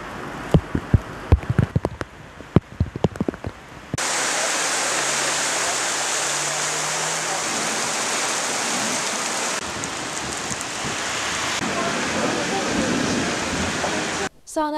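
A heavy downpour on a street in Balıkesir: a few sharp clicks and knocks, then a sudden, loud, steady hiss of rain pouring down that continues for about ten seconds.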